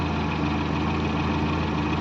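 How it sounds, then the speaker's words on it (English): A 1961 Morris Minor engine, fitted with new engine mounts and steady bar grommets, idles smoothly close by in a steady, even drone that runs unbroken throughout with no voices. "new engine mounts and the new steady bar grommets have stopped the engine shaking quite a lot"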